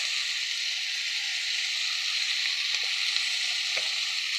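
Ground chilli and salt sizzle in hot oil in a pan, a steady close frying hiss with a few soft scrapes of stirring.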